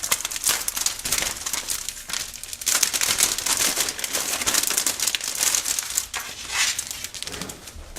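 Continuous crinkling and crumpling of plastic product packaging as a holster package is opened up close, with bursts of rustling and tearing across the whole stretch and no talking.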